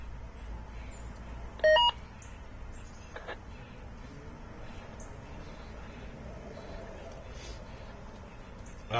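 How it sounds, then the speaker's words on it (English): A radio scanner gives a few short electronic beeps while its settings are changed, including a quick burst of tones early on, amid quiet outdoor background with a voice talking. "Making a couple changes to the scanner here, so that's what those beeping noises"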